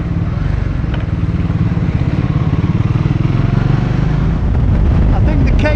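Three small adventure motorcycles, a KTM 390 Adventure, a Triumph Scrambler 400X and a Royal Enfield Himalayan 450, ride through back streets with a loud, steady engine drone and throbbing exhaust, a rider talking over it.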